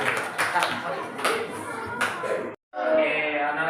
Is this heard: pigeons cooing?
no